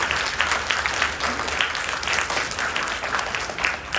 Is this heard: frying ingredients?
no